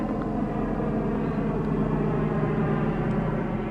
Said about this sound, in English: We got lots of airplane activity today.